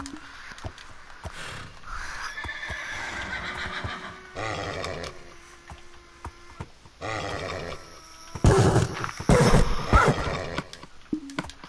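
A horse neighs and whinnies in repeated loud bursts, with snorting and shuffling between calls and a final strong whinny near the end; no talking.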